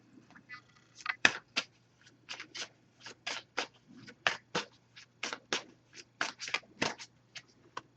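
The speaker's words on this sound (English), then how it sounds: "I'm going to give this a few shuffles." Oracle card deck shuffled by hand in a steady run of crisp riffling bursts, close up and fairly loud, repeating throughout with no talking.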